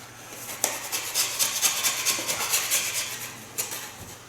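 A knife scraping a paper wallpaper border off a wall, heard as close, dry rasping strokes in a quick irregular rhythm, a few sharper scrapes standing out over a faint steady hum.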